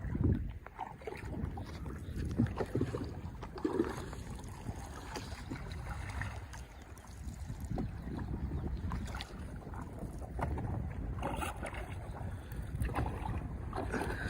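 Steady rumbling and lapping water as a boat moves along a river in Bangladesh, with a low continuous drone and wind buffeting the microphone.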